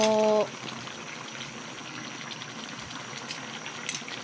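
A vegetable dish simmers in a pot, giving a steady low bubbling hiss throughout with faint pops. A short tonal sound opens the clip.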